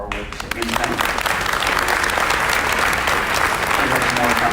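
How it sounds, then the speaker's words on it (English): A large audience at a 2019 graduation ceremony applauds award recipients, loud dense clapping that swells in quickly and holds steady throughout. "Let's give a round of applause for all of our award recipients tonight."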